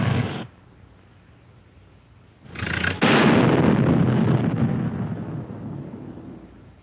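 Artillery shells burst against a tank in a WWII-era film, including hits on its treads: a loud blast lands after a brief lull, followed by a long, heavy rumbling roar that slowly fades.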